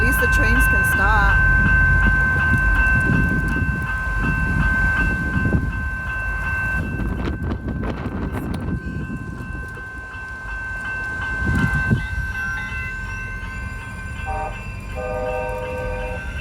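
Houston METRO light rail train on street tracks amid stuck traffic, a loud rumbling presence with a horn or bell sounding, crossing noise and clanking, with people talking over it throughout.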